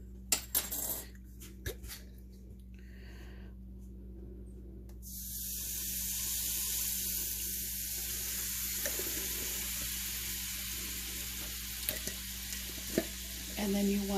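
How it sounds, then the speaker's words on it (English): Liver broth poured into a pan and stirred, a watery rush and broad hiss swelling from midway and holding steady, with scattered clinks and scraping before and after; no talk. "now I'm going to add a little bit of liver broth"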